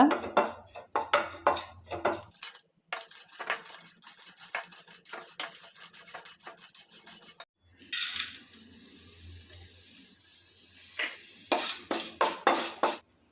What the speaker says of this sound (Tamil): கொப்பரை தேங்காய் சேர்த்து வறுத்துக்கலாங்க